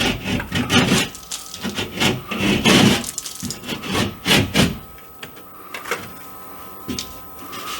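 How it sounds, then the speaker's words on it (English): Drywall being cut and trimmed with a razor knife while fixing a dip in a wall: close, rough scraping and rasping strokes in uneven bursts, then quieter scratches toward the end. "I'm going to take my razor knife and fix that up."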